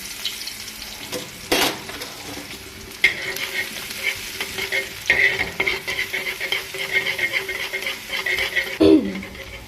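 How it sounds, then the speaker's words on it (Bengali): Dried chilli and garlic frying in mustard oil in a pan, with a steady sizzle and crackle, close by, broken by sharp stirring scrapes and clanks of a spatula. "সর্ষের তেলেতে শুকনো লঙ্কাকে ছোটো ছোটো কুচি দিয়েছি এই রসুনটা তুলে দেবো আমি"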